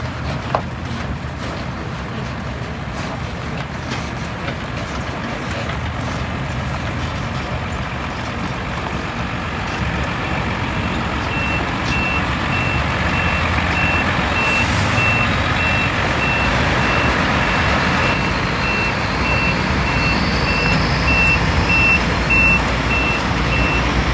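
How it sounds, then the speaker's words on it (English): Car transporter trucks unloading behind a race circuit in Buriram, Thailand, with a dense, loud rumble of engines and a thin, repeated reversing beep running steadily through the later half. "the cars arriving, the cars unloading"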